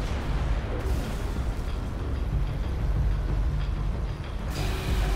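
Halo 3 gameplay with the core being destroyed: loud, dense rumbling explosion noise fills the whole stretch, a sustained roaring blast with a fresh burst near the end, no voices.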